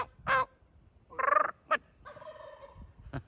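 Wild turkey gobbling near a house during turkey season, several distinct rattling gobble calls in bursts with pauses between, fairly clear against a quiet outdoor background.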